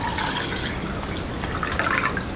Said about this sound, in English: now we are going to pour it out into our measuring cup